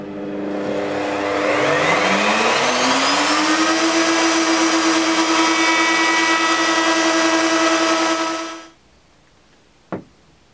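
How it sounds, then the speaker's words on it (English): Router fitted with a bearing-guided curved bit cutting a rounded edge on a wooden frame: a loud motor whine ramps up, holds steady for several seconds, then cuts off, followed by a single sharp knock. "I've got a router piece with a bearing top on it, and it's just going to, basically it's a curved one, so it's going to create a nice curved edge"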